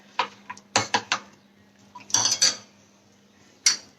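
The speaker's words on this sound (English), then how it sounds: "And just give it a good mix so that the batter gets mixed." Crepe batter mixed in a bowl with a utensil, several sharp clinks and scrapes against the bowl in short irregular bursts separated by quiet gaps.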